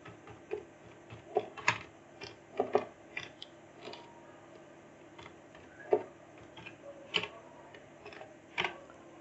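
Light clicking of computer keyboard keys while an email address is entered, irregular taps and short bursts of keystrokes, quiet and close in an otherwise still room.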